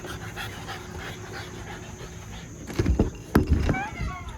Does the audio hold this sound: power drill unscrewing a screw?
no